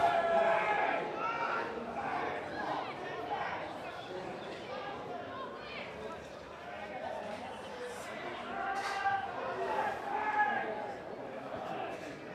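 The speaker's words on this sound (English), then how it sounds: "Calls from the crowd for Lodewijks to step forward and take it" Crowd at a Federation League football match between Gisborne Thistle and HN Wanderers at Childers Road Reserve, calling out and chattering steadily as a penalty kick approaches, a broad murmur with a few louder shouts, no clear commentary over it.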